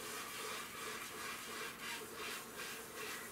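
A sponge brush scrubs thick, milky varnish onto a canvas in steady back-and-forth strokes, a soft continuous rubbing and swishing close by, with no talking.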